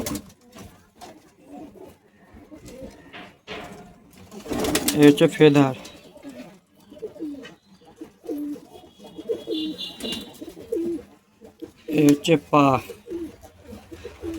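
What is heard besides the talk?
pigeons being handled and shown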